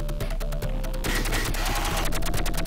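Rapid automatic fire from a mounted gun in the Sega Genesis game Doom Troopers, a dense burst of repeated loud shots that speeds into a fast rattling volley, with game music underneath and no talking.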